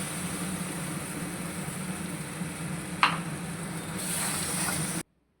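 Cashew paste dropped into masala frying in a pan for a banana-flower kofta curry, giving a steady close sizzle with a brief scrape or plop midway and a brighter hiss near the end.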